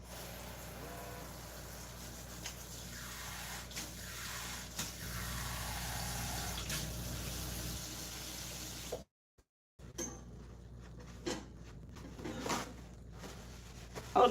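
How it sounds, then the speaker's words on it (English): A kitchen faucet runs steadily as hands are washed beneath it, a constant close rushing hiss that briefly cuts out and then resumes with splashes and clatter. "Let me wash my hands."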